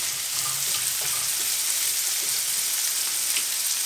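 Pork chops sizzle on a grill in a steady, bright hiss with faint crackles and pops, close and continuous with no talk.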